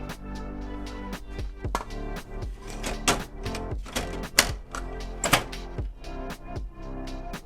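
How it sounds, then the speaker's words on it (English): Mechanical clicks and clunks of a sublimation toner cartridge being slotted into a DigitalHeat FX i650 printer, with a black cartridge in front, sounding as a close series of sharp taps and knocks, some louder thunks among them. "It's very easy to slot in the cartridge just like the traditional ones."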